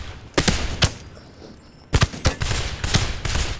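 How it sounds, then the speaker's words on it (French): Assault rifle fire in the John Wick Chronicles game: loud, close bursts of rapid shots, a pause, then sustained overlapping automatic gunfire. "Je prends directement le fusil d'assaut."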